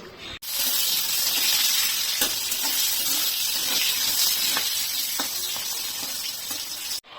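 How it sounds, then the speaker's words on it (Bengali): Pointed gourd (potol) fries in oil in a pan, giving a loud, continuous sizzling hiss close by, broken by a few faint pops and clinks. "পটলটা ভাজবো"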